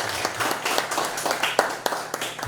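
An audience claps after a lecture on Naju history, with uneven, fairly sparse hand claps. Individual sharp slaps stand out over a thinner round of applause.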